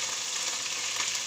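Garlic sizzling in a pan for a chicken soup, with a bright, continuous, close-up crackle and hiss that holds steady throughout.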